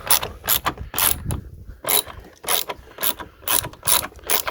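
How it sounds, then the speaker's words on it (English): A long reach ratchet with a 13mm socket loosens a nut on a Mitsubishi Colt car battery, giving repeated rapid clicking bursts in an uneven rhythm with short pauses between strokes, close and loud. "I'm back with my long reach ratchet"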